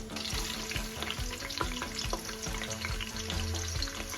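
Onions sizzle and fry steadily in oil inside a pressure cooker for mutton biryani, with whole spices, a continuous crackling hiss broken by regular stirring scrapes and clinks, close and fairly quiet, with no talking.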